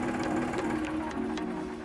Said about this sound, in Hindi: अभी देखिए ट्रैक्टर चालू हो जाएगा।